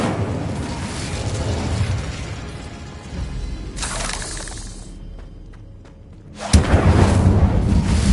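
Incendio fire spell cast in the Hogwarts Legacy video game, bursting with a loud whooshing roar of flame, then dying away before a second sharp, booming burst erupts near the end.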